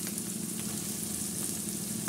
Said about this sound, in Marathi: तिखट चांगलं असं हलवून घ्यायचं.